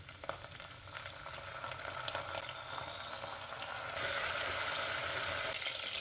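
Tomato paste frying with garlic in a pan, a soft continuous sizzle that grows a little louder and brighter partway through, heard close and alone.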